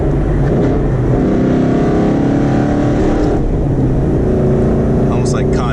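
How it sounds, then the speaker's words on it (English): A car engine revs loud and close through a downshift made with an MGW Race Spec shifter, a steady roaring drone holding for several seconds with a brief sharper rise near the end. "I'll just downshift and show you guys that this is extremely crisp"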